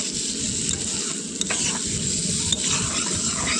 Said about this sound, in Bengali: মাছগুলো এবারে ভালো করে কষিয়ে নেব